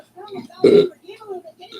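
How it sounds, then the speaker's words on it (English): A single short, loud burp from a man sits between stretches of quiet talking. "I'm about to burp in a second"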